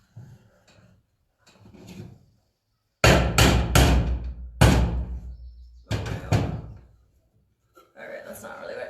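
Hammer driving nails into a wooden hanging planter box on a bouncy surface, several heavy close thuds in a quick cluster, with speech before and after.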